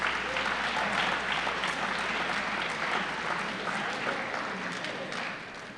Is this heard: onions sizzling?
no